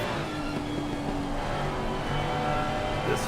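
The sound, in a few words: Ferrari and Lamborghini GT3 race cars in a racing video game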